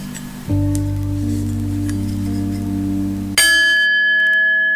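A single bell struck in a quiet room during a mindful listening exercise, a bright ringing tone that sustains and decays, preceded by a steady low hum.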